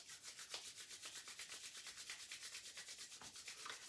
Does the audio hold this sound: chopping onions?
no